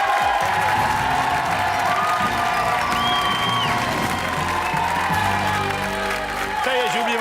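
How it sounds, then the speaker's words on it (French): A French television game-show studio audience applauds and cheers loudly and continuously, with whoops and shouts over the clapping, while music tones carry through. "je vous demande de l'applaudir très très fort"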